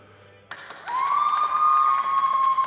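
Applause for RM at a live podcast taping, a brief burst of clapping followed by a sustained tone, with the room noise up close and fairly loud.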